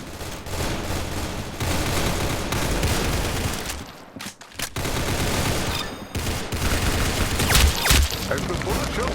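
Dense video game gunfire rattles almost continuously in rapid bursts, loud and busy, with a brief lull midway before the shooting resumes.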